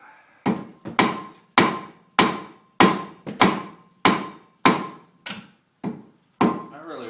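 A hammer pounds on a worn front brake rotor on a Cadillac Catera, about a dozen heavy metallic blows at a steady pace, loud and close, with no talking.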